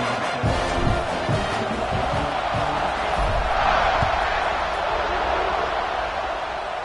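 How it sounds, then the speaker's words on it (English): A large stadium crowd at a Georgia vs Arkansas college football game roars and cheers steadily as the kickoff unit takes the field after a scoring drive, with an announcer's voice faint underneath. "this crowd is feeling themselves after that last drive"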